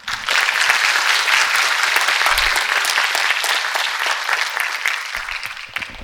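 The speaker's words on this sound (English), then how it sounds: "A huge round of applause for our panelists." A large audience applauds panelists after a conference panel discussion at a talks event, dense steady clapping filling the whole stretch at close range, with no voices over it.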